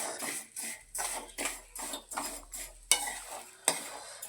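Semiya being fried and stirred in a pan for upma, with steady rhythmic scraping strokes about twice a second over a soft sizzle, ending with two sharp metallic clinks of the spoon.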